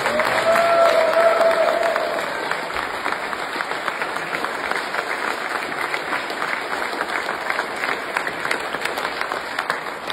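A squash crowd of about 120 people applauding after a match, sustained clapping that is loudest at the start and then settles into a steady patter.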